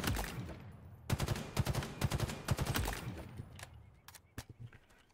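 A burst weapon fires repeatedly in Halo Infinite as rapid bursts of sharp, close gunshots. Tight clusters of shots come in quick succession, and fainter, more scattered shots follow at the end.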